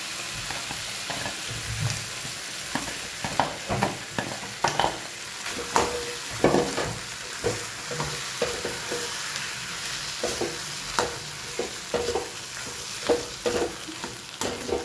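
Potatoes frying in a pan beneath a constant close sizzle, with repeated scraping stirs knocking against the pan at an irregular rhythm throughout.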